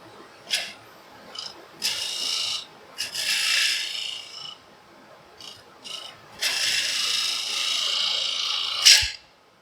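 A bottom feeder bowl gouge cuts inside a wooden bowl on a lathe, making repeated bursts of rasping, scraping shavings, some short and some drawn out, close and fairly loud with quiet gaps between passes.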